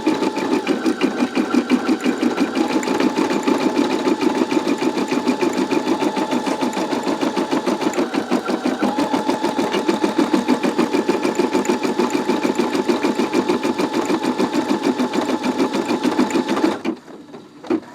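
A Brother SE625 embroidery machine stitches thread steadily, with a fast, even mechanical chatter and motor hum that runs close and loud without a break, then stops abruptly near the end.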